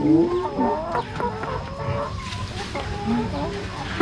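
Free-range farm chickens cluck repeatedly close by, a busy run of short calls and squawks, with people talking over them.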